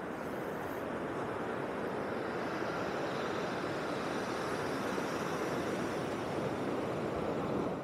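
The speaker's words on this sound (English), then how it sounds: "Look at the size of some of these waves out here." Ocean surf at Sea Isle City, New Jersey rolls in a constant broad roar, fairly faint and steady, with no voices over it.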